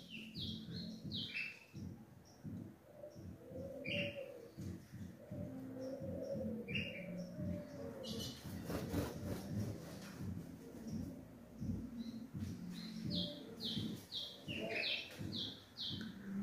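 A blue grosbeak (azulão) chirps and whistles repeatedly in an aviary at a breeding setup, bright short calls recurring over a steady background of cooing pigeons or doves and other bird calls, with no talk.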